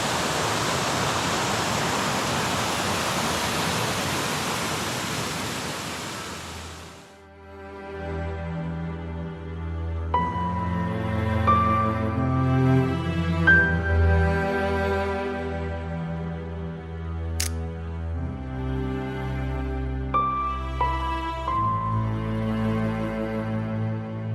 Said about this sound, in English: So just a taste of the waterfalls.